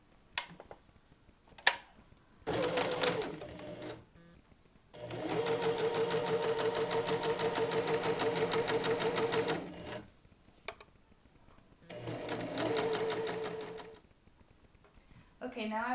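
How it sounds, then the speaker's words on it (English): Bursts of sewing machine stitching run around a maxi skirt seam, with a long steady run in the middle and shorter runs before and after, close and fairly loud, separated by pauses. "you're going to sew all the way around"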